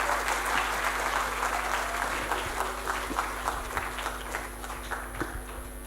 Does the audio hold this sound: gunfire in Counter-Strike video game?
no